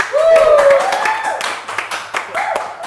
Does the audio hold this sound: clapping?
yes